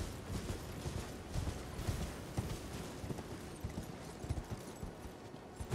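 Horse hooves clip-clopping in Elden Ring, a steady run of dense, overlapping hoof beats at moderate loudness, continuous over a low busy game backdrop without talk.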